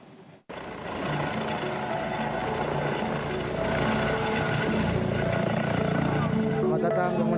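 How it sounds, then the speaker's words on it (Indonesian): A fast helicopter flies and comes down by the beach at Raja Ampat, its loud steady rotor and engine drone starting abruptly and holding close for several seconds. "Naik helikopter super cepat turun di pinggir pantai."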